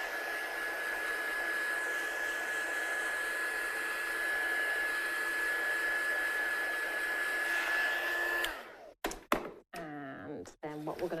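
A heat tool blows a steady, loud whooshing hiss with a thin whine while drying ink on a handmade card, then cuts off and a few thuds and handling knocks follow.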